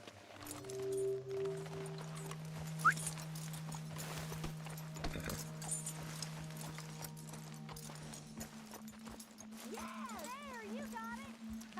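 Hooves of a Shire horse clip-clop in the Red Dead Redemption 2 video game, soft steady steps mixed under game ambience, music tones and a brief whinny-like sound near the end.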